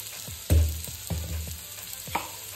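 Vegetables with cumin powder, red chilli and salt fry in a pan, a soft sizzle under several distinct knocks and scrapes of stirring, one heavier clunk near the start, close by and without speech.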